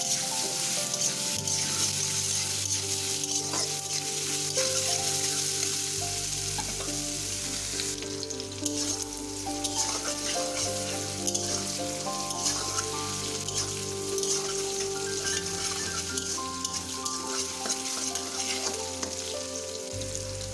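Salted pieces of pointed gourd (potol) fry in hot oil in a kadai with a steady, close crackling sizzle that goes on without pause, and nobody speaks.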